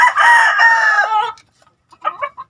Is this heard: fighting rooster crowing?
yes